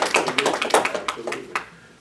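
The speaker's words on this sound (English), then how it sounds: "we give them a round of applause" A round of applause at a Human Relations team meeting, a short burst of clapping from a small group that fades out within two seconds.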